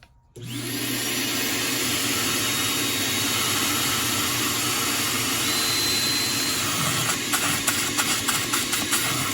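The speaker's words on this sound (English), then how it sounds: "I think I do want to run the vacuum though. So let's turn it back on." A vacuum cleaner switches on abruptly and runs with a steady loud whine and roar while cleaning out the engine of a Bayliner 4588 boat, with some rattling clatter toward the end.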